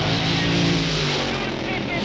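Drag racing car launching at the 1962 Winternationals, a loud dense engine roar sustained close by, with an announcer talking over the noise.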